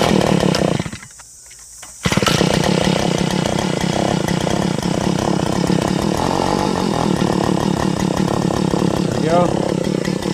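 Toro gas-powered 8-inch auger engine starting with choke on, then running loud and steady for about eight seconds after a brief drop near the start.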